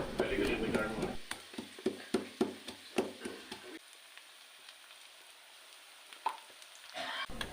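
Half-cooked onion frying in a pan: a loud sizzle at first, then a series of sharp clicks as it is stirred. The frying settles into a quieter, steady hiss, with another brief burst of sizzling at the end.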